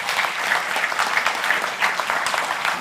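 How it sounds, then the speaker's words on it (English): Steady, dense audience applause for a discussion panel at a freedom-of-expression event with Maria Ressa, continuous clapping throughout with no talk over it. "Please give a round of applause to the panel"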